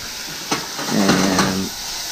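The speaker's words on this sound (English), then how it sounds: "Now you put the salt and pepper and garlic in to cook with these onions." Onions frying in a pan with salt, pepper and garlic for marinara hiss and sizzle, starting with a sharp crackle as the seasoning hits and then settling into a steady close frying sound.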